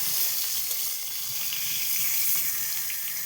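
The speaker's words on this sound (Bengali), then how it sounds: "লাল লাল করে তুলে ভেজে নিই বেগুনগুলোকে" Eggplant slices frying in oil for a vegetarian Bengali dish, a close, steady sizzle with light crackle that continues evenly, with no voices.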